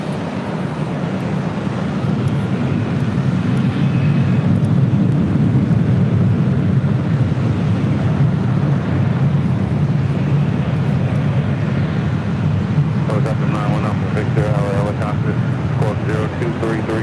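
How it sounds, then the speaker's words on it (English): A Swiss Boeing 777-300ER departing LAX for Zurich, a loud, sustained low jet-engine roar that holds steady throughout, with voices talking over it toward the end. "Swiss Flight 41 heading back to Zurich, the 777-300ER, possibly a north side departure."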